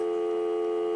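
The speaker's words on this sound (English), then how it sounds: "I picked up my phone. Okay, and I dialed their number." A steady electronic telephone tone sounds as a phone number is dialed. It is one sustained, unbroken beep, moderately quiet and alone.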